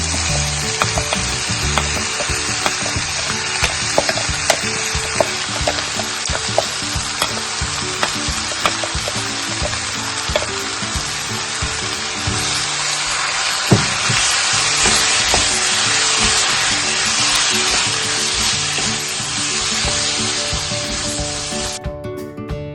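Pasta sauce hits a hot pan in an Indian-style red sauce pasta, bursting into loud, continuous sizzling and frying with steady crackle and scraping stirring strokes throughout, ending abruptly near the close.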